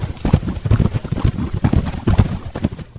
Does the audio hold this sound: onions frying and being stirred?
no